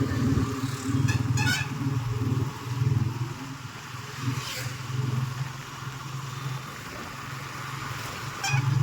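A motorcycle runs along a road shared with big dump lorries, its steady engine drone filling the scene throughout with a few brief high toots mixed in.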